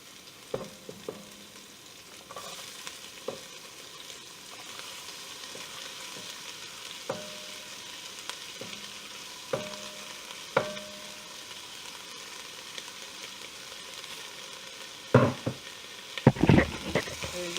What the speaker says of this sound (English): So, the onion, I'm going to let it saute down